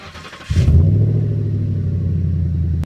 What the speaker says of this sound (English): it has an aftermarket exhaust, which sounds phenomenal